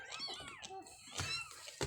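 A cat meows a few times in a household setting, short rising and falling cries, fairly faint and mixed with people talking nearby.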